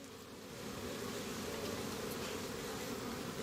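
Honey bees buzz in a dense, steady drone inside a hive while the queen lays eggs, the hum swelling slightly after the first half second and holding close and continuous.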